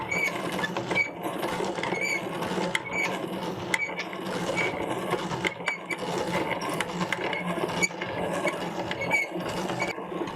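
A hand grinder cranks locally grown corn for tamales, giving a steady, repetitive grinding and ratcheting clatter with rhythmic mechanical clicks, close up and continuous.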